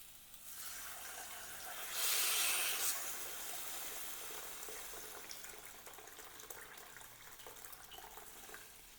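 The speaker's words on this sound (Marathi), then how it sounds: "आता यामध्ये आपण पाणी घालून घेऊया आणि इथे मी गरम पाण्याचा वापर करणार आहे" Hot water poured into a pot of fish-head curry, a bright rushing splash that swells briefly then settles into a quieter gurgle and simmer.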